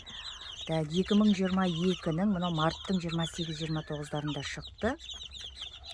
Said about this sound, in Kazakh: Мынау Барковский барвистый деген балапан